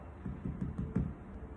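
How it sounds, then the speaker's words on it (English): Knocking on a door: five soft, muffled, evenly spaced knocks in quick succession, fairly quiet and with no talk. "When he arrived there, he knocked on the door."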